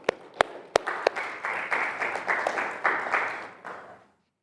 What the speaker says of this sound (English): Give these two guys a round of applause